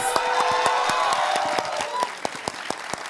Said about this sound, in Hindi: ऐसे ताली बजा रहा है और पूरी ताकत के साथ ताली बजा रहा है